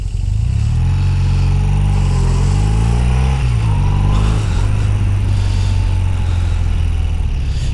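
A 41-year-old BMW R100CS airhead motorcycle idling and revving with a lighter flywheel, its loud, close, throbbing boxer-twin engine carrying a mechanical rattle, continuous with no talking.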